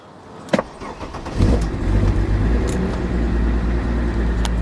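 A Mercedes-Benz car engine, low on fuel, cranks and catches, then settles into a loud, steady, slightly uneven idle that continues to the end.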